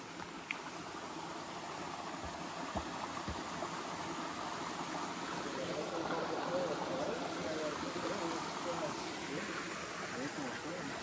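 A huge rushing river swollen by a downpour roars steadily as a broad, unbroken wash of water noise that swells slightly midway, with voices talking faintly beneath it.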